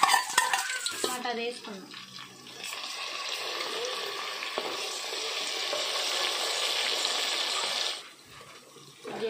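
Chopped onion and green chillies sizzle in well-heated oil in a pan, a steady frying hiss lasting several seconds before it drops away, with brief clatter and a few words spoken at the start.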